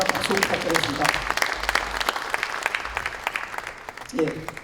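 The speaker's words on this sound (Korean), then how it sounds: "마지막 박수 부탁드리겠습니다." Applause from lawmakers at an emergency party caucus meeting, crisp close claps over a room murmur with voices talking through it, tapering before a voice resumes near the end.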